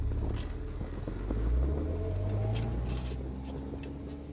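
A car with tire chains on all four wheels climbs a snowy hill in the woods, giving a steady, close engine rumble with faint rhythmic clinking and patter throughout.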